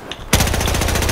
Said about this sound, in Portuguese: o cara só me deu um tiro com a K10